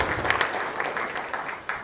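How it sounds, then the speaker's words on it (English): Brief applause from an audience at a school event, a dense steady patter of clapping at moderate volume with no talk over it. "let's give them a big round of applause for that"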